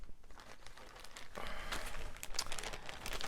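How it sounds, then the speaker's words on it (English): A plastic Ziploc bag crinkles and rustles close by in a steady run of crackling that grows busier partway through, with no voices. "put it in a plastic bag, it's good to go."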